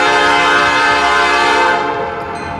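A loud, chord-rich cast train horn of the kind used by Norfolk Southern blows in one long sustained blast, close and steady, then fades slightly at the end.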